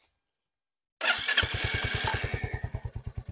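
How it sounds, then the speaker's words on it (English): A Royal Enfield Hunter 350 motorcycle starts after a second of silence, then settles into a steady, loud, close thumping idle with an even pulse from its exhaust. "Now let's see what the Hunter sounds like."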